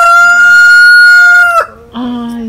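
A chicken calls loudly and close by on a family farm, giving a long sustained note that breaks off, then a shorter squawk, with no talk over it.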